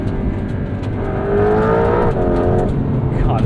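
A 2025 Porsche 992.2 Carrera 4 GTS under hard acceleration, the engine note climbing steadily in pitch and loudness before a brief drop and rise again as it shifts, heard close from inside the car with a voice speaking over it.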